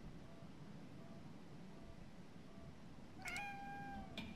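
A cat meowing twice near the end, clear and close, after a stretch of steady low background hiss with no talk.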